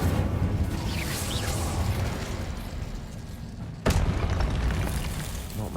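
Spell-casting blasts in the video game Hogwarts Legacy, a rumbling boom with whooshing swirls, then a sharp burst near the end followed by a rolling roar.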